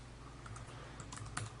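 Keys clatter in quick, uneven taps on the keyboard of a Motorola Atrix 4G laptop dock, a steady soft run of typing with a slightly louder burst near the end, close and with no voices.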